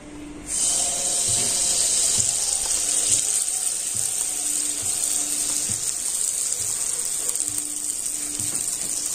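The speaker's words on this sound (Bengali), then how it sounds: "আর এখন আমি ময়দার মিশ্রণটা এই ঘিয়ের মধ্যে দিয়ে দেব।" A flour and milk batter hits hot ghee and sets off a sudden loud, hissing sizzle. It holds steady and close for several seconds with no talking.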